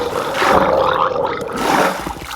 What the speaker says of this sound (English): he's making some gurgling sounds